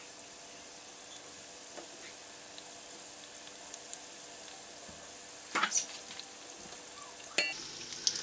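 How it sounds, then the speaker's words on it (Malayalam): Bread-coated chicken popcorn pieces fry in boiling oil, a constant fine, fairly quiet sizzle with a few sharp clinks and bubbling bursts near the end and no speech. "ശരിക്ക് തിളച്ച എണ്ണയിലേക്ക് നമ്മൾ ആ ബ്രെഡിൽ മുക്കിയേക്കുന്ന ഈ ഓരോ പീസുകളും സാവധാനം ഇട്ട് കൊടുക്കാം"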